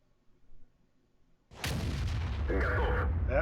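A loud tank gun shot from the SU-152 Soviet tank destroyer in World of Tanks booms after a quiet start, then its heavy rumbling echo and reverberation carry on to the end.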